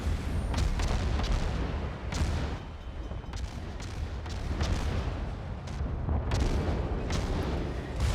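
Naval gunfire from a Benson-class destroyer in World of Warships, a run of booming artillery shots at irregular intervals over a steady rumbling background.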